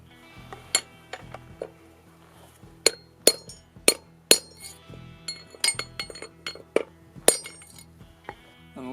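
A hammer strikes a steel drift punch while the forks of a DIY 1970s trike are worked loose: about a dozen sharp, ringing metallic taps in an irregular rhythm, close and clear over a quiet background.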